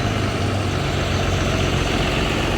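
A KSRTC BS3 bus idles at Navalagunda bus stand, its diesel engine giving a steady, low rumbling drone close by with no talk over it.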